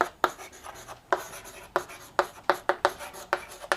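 A pen scratching out equations by hand on paper, a series of close, sharp strokes and taps in an uneven rhythm, with no speech.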